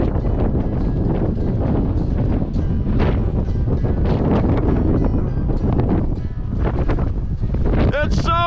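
Strong blizzard wind buffets a mountainside, a loud continuous roar with heavy gusting across the microphone, and a person's voice cuts in near the end.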